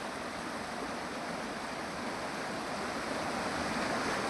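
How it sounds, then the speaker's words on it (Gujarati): The Kalubhar river in Umrala taluka, Bhavnagar, swollen and flowing within its banks after the first rain, gives a steady, dense rushing roar that stays unbroken and fairly loud throughout. "ઉમરાળા તાલુકો અને આ છે તેની કાળુભાર નદી. પહેલા વરસાદે તે બે કાંઠાની અંદર વહી રહી છે."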